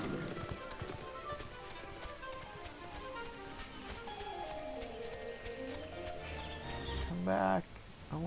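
Horse hooves clip-clop in Final Fantasy 14, a rhythmic run of light hoofbeats under game music and a voice, ending with a brief louder burst.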